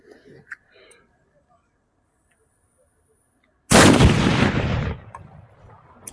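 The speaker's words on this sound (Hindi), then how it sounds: "ये देखो ऑटम बम शोरशेर, इसका भाई साउंड सबसे ज़्यादा मस्त होने वाला है" An Atom bomb firecracker set off during Diwali fireworks testing bursts with one sudden, heavy, close blast that rumbles and decays over about a second, after a near-silent wait with faint voices before it.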